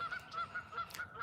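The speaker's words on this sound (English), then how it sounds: "Those are just plain old birds, some wild, crazy southern birds." Wild southern birds calling outdoors: a faint series of short, evenly spaced honking calls repeating about every quarter second.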